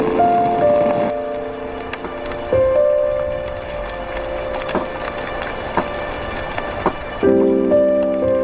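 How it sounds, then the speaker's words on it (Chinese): Steady rain falls with a soft, continuous patter that sits beneath swelling music, with occasional sharper drips and taps breaking through. "怎么下雨了？"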